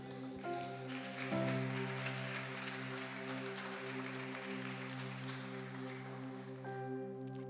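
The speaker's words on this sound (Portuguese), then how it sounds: "Dê um aplauso ao Senhor Jesus" A church congregation applauds during a sermon, a brisk patter of many hands clapping over sustained keyboard chords, rising quickly and holding steady before easing off at the end.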